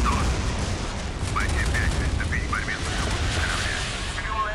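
Continuous loud rumble of rapid railgun cannon and missile fire from a cruiser warship in a video game, dense and unbroken throughout, with no talking.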